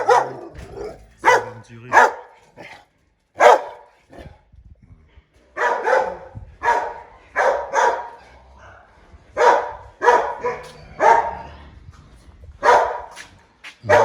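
A guard dog at a pig farm barks loudly and repeatedly, in close, sharp bursts with short pauses, almost without talk.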